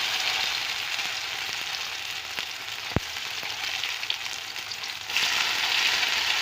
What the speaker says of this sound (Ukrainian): Кабачки з однієї сторони підсмажилися, перетаю їх на другу сторону.